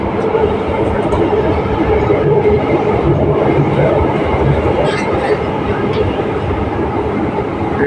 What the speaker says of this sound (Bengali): চলে আসছে ট্রেন